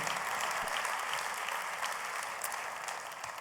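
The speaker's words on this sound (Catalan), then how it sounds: "Fort l'aplaudiment per ells." Audience applause at a wine awards gala, a steady, moderately distant wash of many people clapping that continues evenly and tapers slightly at the end.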